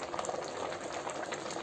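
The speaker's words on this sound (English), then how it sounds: "We have cooked the rice on high flame for 10 to 12 minutes. Now we could see that the rice has come above the water level" Rice boiling in a pot of water over a high flame, giving a steady, dense bubbling and hissing texture that holds evenly from start to finish with no talk over it.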